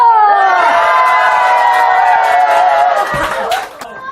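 Seniors at a lively silver health-exercise class cheer and shout loudly with some clapping for about three seconds, with strong voiced tones, then the noise quickly drops away.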